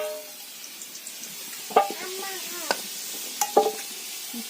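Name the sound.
potatoes frying and sizzling in a pan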